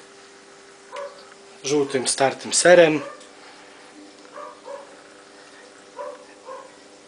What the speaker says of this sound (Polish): Mój pies szczeka za ścianą.